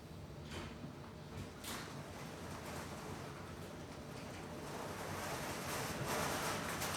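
Heavy rain pouring outside, heard as a dense, steady hiss that swells slightly toward the end, with no voices.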